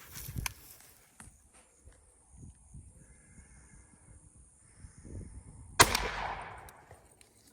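A 20 gauge shotgun with an improved cylinder choke fires a single sharp blast of #3 buckshot, heard after a stretch of quiet rustling and footsteps, followed by a fading echo.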